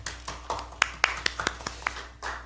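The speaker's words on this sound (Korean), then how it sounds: "박수 부탁드립니다." Sparse, individual hand claps ring out at a Democratic Party recruitment ceremony as a coat is presented, about a dozen sharp, separate claps over a quiet hall rather than a full round of applause.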